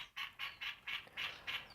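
Birds call outdoors in a quick run of about six evenly spaced, raspy, quack-like calls, faint and somewhat distant, with no talking.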